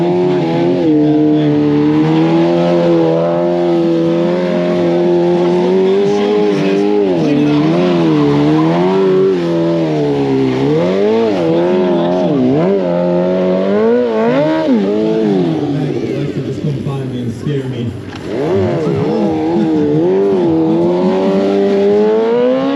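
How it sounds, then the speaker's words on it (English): A 200-horsepower BMW superbike slides and revs around corners during a stunt show at the Barber Vintage Festival, its loud engine wailing and swooping in pitch continuously, close and dominant throughout. "what it looks like when a 200 horsepower superbike doesn't have that much traction"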